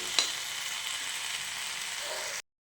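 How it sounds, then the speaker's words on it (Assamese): Chicken pieces half-fried in a pan for biryani give a steady, close broadband sizzle with a brief stir or clink near the start, running alone without talk until it cuts off abruptly. "আমাৰ চিকেনখিনি আধা ফ্ৰাই হৈ গৈছে"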